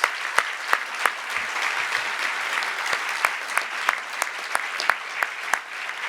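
An audience at the annual California Hall of Fame ceremony applauds steadily, with a soft wash of clapping punctuated by sharp, distinct individual claps at regular intervals.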